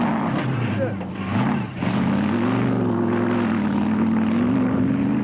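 The 6-litre race truck engine at the 2006 Limpopo 400 rally drones loudly and steadily, its pitch wavering as it rises and dips, under a heavy wash of wind and road noise, with a brief dip in the middle.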